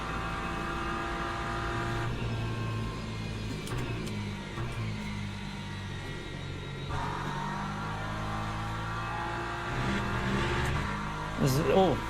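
Race car in the Le Mans Ultimate racing game coasting into braking zones, a steady engine drone shifting pitch as it slows and picks up again, with someone talking over it throughout.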